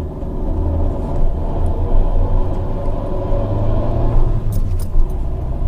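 Gearbox whine and low rumble from a Fiat Punto moving in first gear, a steady loud drone inside the cabin with continuous road noise and no talk.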